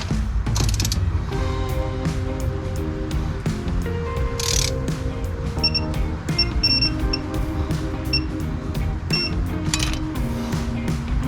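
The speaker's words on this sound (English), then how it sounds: "now I'm just gonna torque them down" A ratchet torque wrench tightens front brake bolts on a 1978 Dodge Ramcharger W100, with rapid clicking ratchet runs and metallic ticks repeating close up over a steady mechanical hum.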